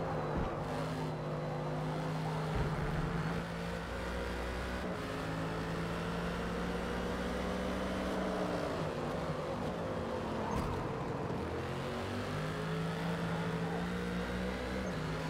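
Ferrari GT3 race car in Forza Motorsport at Road America, its engine droning loud and steady throughout, with pitch rising and falling through gear changes and corners, no voices.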